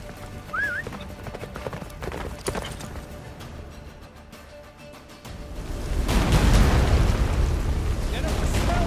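Roach, the horse in The Witcher 3, gallops with rapid hoofbeats under shouted game dialogue, then a deep rumbling boom swells and holds loud to the end.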